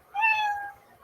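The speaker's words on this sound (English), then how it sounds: "you'll hear the sound of a kitty" A cat gives a single clear, fairly close meow of about half a second, rising then trailing off, with nothing else around it.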